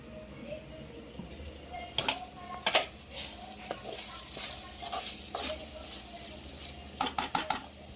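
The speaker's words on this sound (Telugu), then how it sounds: "లివర్ నుండి వచ్చే నీరంతా పోయి ముక్కలు నూనెలో బాగా ఫ్రై అయ్యే వరకు వేయించుకోవాలి" Mutton liver pieces fry in hot oil with a steady sizzle, broken by repeated close clanks and scrapes of a spoon stirring against the pan.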